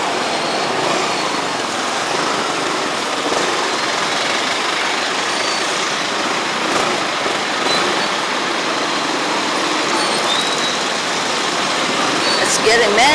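Rush-hour road traffic in Mabalacat, Pampanga, Philippines: a steady, loud blend of truck, bus and car engines idling and crawling close by, with occasional faint voices mixed in.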